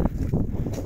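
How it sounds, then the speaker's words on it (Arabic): Wind gusting outdoors in a Moroccan rural setting, a brief rough roar of buffeting air against the microphone, loud and close, with no one speaking. "تيصوت الريح"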